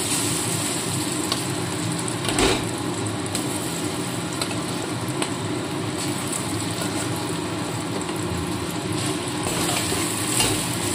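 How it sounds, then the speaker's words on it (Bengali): Ginger fries in a pan in a constant close sizzle, stirred with occasional scraping strokes, steady throughout. "আদার কাঁচা গন্ধটা চলে যাওয়া পর্যন্ত একটু নাড়াচাড়া করে নিচ্ছি"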